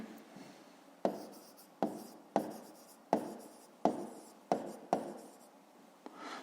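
A pen writes down the answer to a fifth-grade maths problem, eight or nine short scratchy strokes in an uneven rhythm, close and fairly quiet, with no talking.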